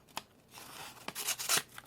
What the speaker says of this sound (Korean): 그리고 가위질.